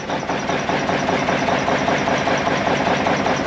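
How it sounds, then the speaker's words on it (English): A Kenworth K100 truck with a Cummins diesel idling just after a cold start: a steady, loud, close chugging rumble with a fine rapid knock throughout. "Maybe I'll just let him chug a little bit to warm up, and then we'll fast idle him."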